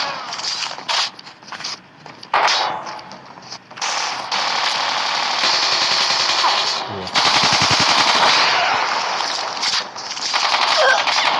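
Automatic weapon fire in the mobile shooter Call of Duty Mobile, long loud sustained bursts of rapid gunshots with brief gaps between volleys, dense and close throughout.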